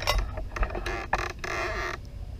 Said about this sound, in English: So all you do is put your cap on after it cooled down.